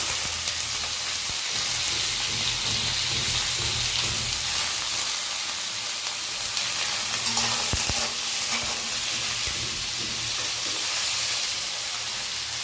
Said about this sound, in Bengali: একসাথে আলুটাও দিয়ে দেবো, দিয়ে এগুলো একসাথে ভাজা ভাজা করবো